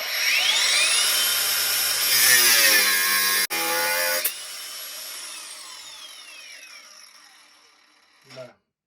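A battery-powered cutting tool whines up to a high, steady speed on a fresh battery in a knife-making workshop, then winds down into a fading hum and stops, ending with a brief clunk.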